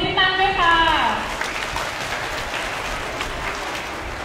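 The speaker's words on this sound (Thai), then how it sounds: "ขอเสียงปรบมือ" A school audience of students breaks into sustained applause after a brief announcer's voice, a steady wash of many hands clapping that holds evenly to the end.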